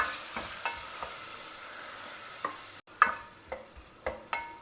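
Chopped onions sautéing in ghee give off a steady hissing sizzle, broken by several distinct stirring scrapes and clicks of the spoon in the pan.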